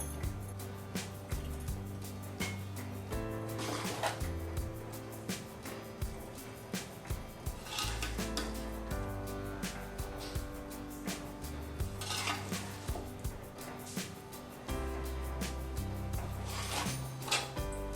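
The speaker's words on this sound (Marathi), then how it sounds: "आता लोणचं आपण बरणीमध्ये भरून घेऊया." Prawn pickle spooned into a jar, with a spoon clinking against glass and dishes at scattered moments over steady background music.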